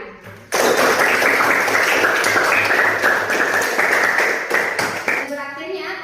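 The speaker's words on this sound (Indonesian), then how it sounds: "Kalau senang, coba kita sama-sama tepuk tangan." A class of students claps together in a dense burst of hand claps that starts abruptly, holds for several seconds, then tapers into scattered claps as a voice starts talking.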